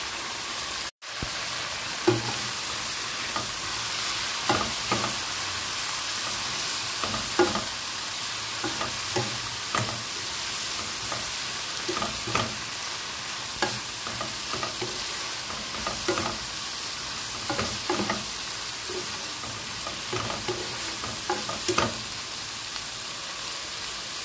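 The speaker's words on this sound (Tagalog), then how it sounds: "Add natin ang carrots at cabbage." Carrots and cabbage stir-frying for pansit with shrimp, a steady bright sizzle punctuated by regular scraping and tossing strokes of a utensil against the pan, with no talk.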